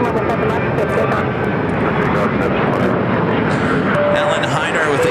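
Alaska Airlines airliner taking off at Phoenix Sky Harbor, a loud sustained engine roar filling the whole clip, with radio chatter faintly over it.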